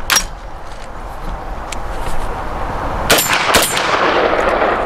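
A full-auto Genesis Arms Gen-12 12-gauge shotgun fires sharp, loud shots outdoors: one near the start, a lone crack around the middle, then two close blasts later, with a ringing echo and a constant background hiss between them.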